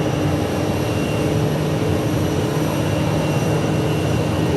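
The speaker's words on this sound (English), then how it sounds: "And landing is the American Airlines flight from Tucson" American Airlines Airbus A320 landing at Phoenix Sky Harbor Airport, a steady broad jet roar that fills the whole stretch at an even, moderately loud level, with no voices.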